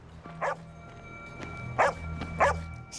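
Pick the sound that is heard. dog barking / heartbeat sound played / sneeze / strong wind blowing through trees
dog barking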